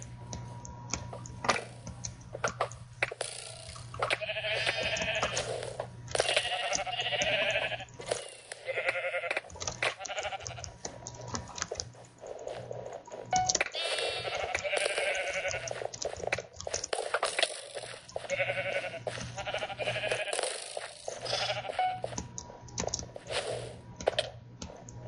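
Sheep bleat repeatedly during a Minecraft Mineplex Sheep Quest match, short nasal calls recurring over game sounds and rapid keyboard clicking throughout, with no talk.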